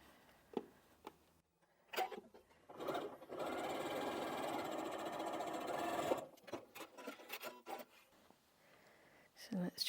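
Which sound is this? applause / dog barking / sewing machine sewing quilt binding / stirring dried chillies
sewing machine sewing quilt binding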